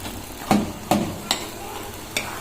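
Jaggery syrup simmers in a pan over a low to medium flame while a spoon stirs it, giving four distinct scraping knocks spaced apart over a faint, soft bubbling.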